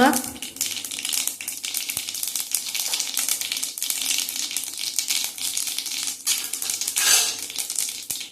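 Cumin and mustard seeds splutter in hot oil in a kadhai, a dense, continuous crackle and pop like rapid typing that runs the whole time, fairly close.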